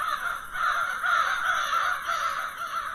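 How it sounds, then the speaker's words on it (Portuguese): Crows cawing continuously as a flock passes over a quiet small town in Brazil, a steady chorus of harsh calls at moderate distance with no talk. "das aves em bando passando aqui"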